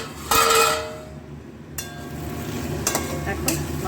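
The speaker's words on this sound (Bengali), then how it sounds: "এবার ঢাকা তুলে দেখি মশলাটা কিরকম ভাজা ভাজা হচ্ছে।" Spice paste with potatoes frying in a pan for prawn curry, a close sizzle with a loud burst as the lid lifts, followed by a steady quieter crackle and a few sharp stirring scrapes.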